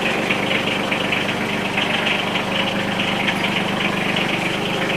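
A tractor engine idles steadily while the machine slowly pulls away, a continuous mid-pitched rumble with a faint knocking rhythm, close and unbroken throughout.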